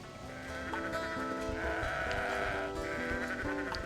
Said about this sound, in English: I wonder if that's a real sheep or if that's just like a person doing a voice